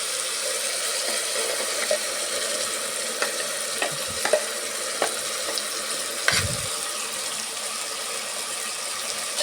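Ground masala paste fries in hot oil for a peeled field bean biryani, a steady close sizzle that runs throughout, broken by occasional scraping clicks from stirring.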